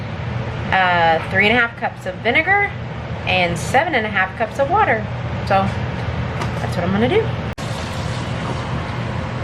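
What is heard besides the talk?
air conditioner running loudly indoors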